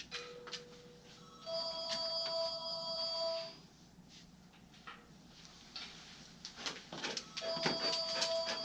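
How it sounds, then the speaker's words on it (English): A telephone rings in a dog grooming shop during a Labradoodle's summer cut, steady electronic ring tones repeating over several seconds at moderate distance amid clinking background noise. "Phone's ringing."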